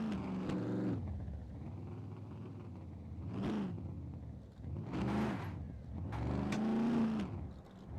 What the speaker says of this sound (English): That was a handbrake turn, that was,